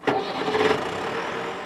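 A Volvo wheel loader engine cranks and catches with a sharp onset, then settles into a steady mid-pitched running hum, heard close and alone.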